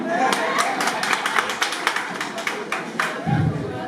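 Audience clapping for a woman singled out from the crowd at a comedy show during a student welcome party, a steady patter of hands close by with voices mixed in.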